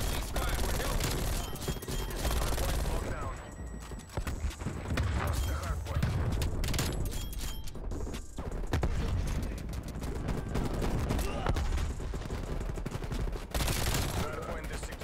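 Shotgun fire and sustained gunfire in a Black Ops Cold War multiplayer match, dense bursts of shots running continuously over busy game sound, with a few quiet gaps.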